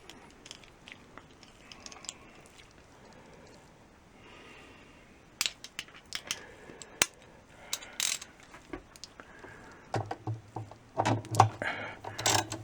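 A ratchet with a 7/16 socket on two 6-inch extensions works a bolt on a 1989 Whirlpool washer, making faint scattered clicks that turn into a clearer, louder run of rapid ratcheting near the end.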